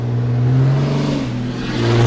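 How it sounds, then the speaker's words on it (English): A big truck accelerates past on the road, its engine giving a loud, sustained low drone with shifting tonal bands that rises and falls slightly across the pass. "That was a big old truck, and he got up and gone on us."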